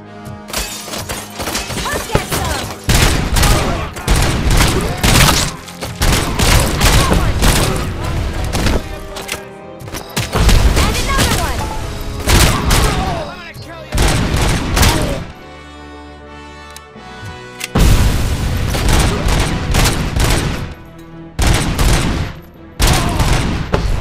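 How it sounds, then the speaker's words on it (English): Grenade explosions and gunfire in the RoboCop: Rogue City video game come as loud, repeated bursts of shots and booms with brief lulls, continuing for the whole stretch. "Stop throwing grenades, assholes."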